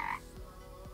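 A frog in a Second Life roleplay game gives one short, close croak at the start, followed by a quiet low background.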